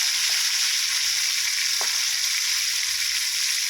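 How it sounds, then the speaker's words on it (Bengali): Rohu fish pieces sizzle steadily in hot oil in a pan over a low flame, a continuous close frying hiss with a couple of faint spatula scrapes as the pieces are turned. "আর মাছ ভাজার সময় উনুনের জ্বালান খুব কমিয়ে দিয়েছি"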